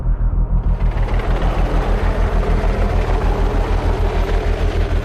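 Rescue helicopter hovering on the Eiger's north face, its rotor beating loud and close in a steady pulsing thud over a continuous engine roar.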